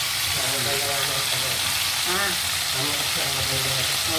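Snakehead fish (dalag) fries in a pan, giving off a steady, continuous hiss and sizzle of oil while a voice talks over it.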